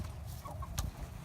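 Backyard chickens give a few soft, short clucks as they head into the coop at dusk, heard faintly over a low rumbling background.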